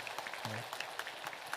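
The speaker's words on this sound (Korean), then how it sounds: "우리 성가대와 함께 격려의 박수 한번 하겠습니다" A church congregation at a New Year's Day Sunday service applauds the choir in a brief, dense patter of clapping heard from a moderate distance.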